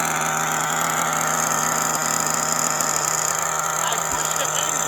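Modded LRP 32x nitro RC engine running off the spur with no load, a loud, steady high-revving buzz with constant tonal whine, sustained throughout with no talk.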